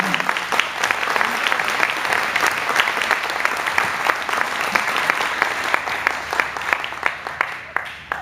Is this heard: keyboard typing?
no